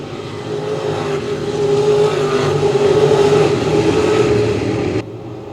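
Race cars at New Egypt Speedway roaring down the back stretch of the track, a loud sustained engine drone that swells and holds before cutting off abruptly near the end.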